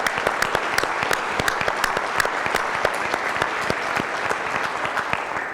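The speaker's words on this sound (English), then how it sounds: "So please give them a round of applause as well." Enthusiastic applause fills a room at an awards and installation banquet, many hands clapping densely and steadily for several seconds, close and loud.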